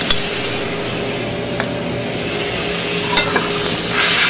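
Butter stirred into a white wine pan sauce for swordfish piccata, a steady, close sizzle with occasional clinks of a utensil against the pan, rising to a louder hiss at the end.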